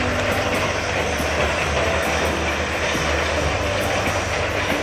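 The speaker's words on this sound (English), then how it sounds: "I've actually seen a train going over the bridge" A train rolls across a bridge over the Saginaw River as a continuous loud, broadband rumble and roar with faint rhythmic clatter, steady throughout.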